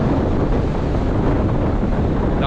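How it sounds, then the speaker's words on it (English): Strong wind roaring across Trearddur Bay beach on Anglesey during a storm, with surf crashing beneath it, a loud continuous rush that buffets the microphone. "That wind's picking up."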